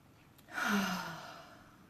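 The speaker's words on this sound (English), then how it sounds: "Big inhale." A single deep breath drawn in, close and soft, swelling over about half a second and then tapering off slowly, heard alone with no speech.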